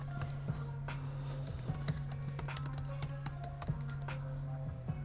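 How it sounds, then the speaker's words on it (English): Password typed on a computer keyboard during an online sign-up, a quiet string of light irregular key taps over a faint steady hum. "Just going to type in a password there"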